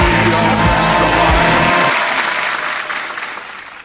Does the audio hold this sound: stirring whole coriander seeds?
no